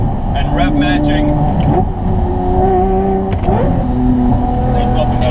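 A Lamborghini 6.5-liter V12 engine with a gated manual shifter revs hard and loud while rolling through gears with rev-matching. Its pitch climbs and drops repeatedly between shifts.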